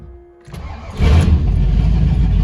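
An older Ford Mustang Foxbody car engine cranks and catches on a cold morning, rising quickly to a loud, steady rumbling idle that continues up close.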